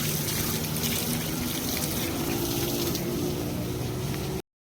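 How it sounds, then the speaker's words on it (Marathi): Water runs to plants in a home yard where a tulsi sapling grows, giving a steady, soft trickling flow that continues evenly until it stops abruptly at the end. "झाडांना पाणी जातं."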